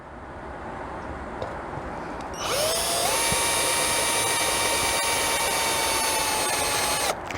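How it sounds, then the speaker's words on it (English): A power drill bores pilot holes for screws into the wall of a 1974 Silver Streak RV, starting with a rising whine and then holding a steady high-pitched drone for several seconds before stopping abruptly, close and loud with no talking. "I'm drilling pilot holes so I don't walk my screws"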